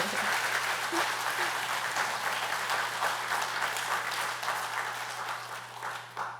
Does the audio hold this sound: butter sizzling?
no